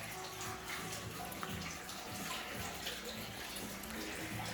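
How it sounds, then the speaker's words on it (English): An indoor water feature carried through a glass wall in a house foyer gives a faint, steady splash and trickle that continues evenly throughout with no clear breaks. "The water feature, I think, is amazing"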